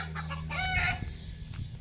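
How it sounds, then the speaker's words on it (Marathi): Chickens cluck nearby with a rooster-like crowing call rising in the middle, over a steady low hum. "तर का हो कोंबड्या वरडते ते"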